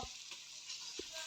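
Meat sizzles and fries in a pan as it is stirred, a steady hiss with a couple of soft scraping knocks, quiet and close.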